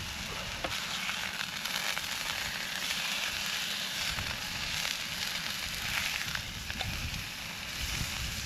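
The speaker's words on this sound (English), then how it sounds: "It's just a salt and chilli sizzle steak" Steady, quiet sizzling and crackling of a salt and chilli steak frying in a hot pan at a sub-zero winter wild camp in Scotland, continuing evenly throughout with no talking.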